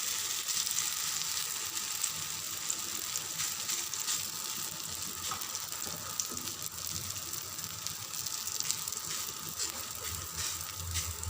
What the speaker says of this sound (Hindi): तो तवा गरम हो चुका है। अब हम इसके ऊपर पराठे को डालेंगे।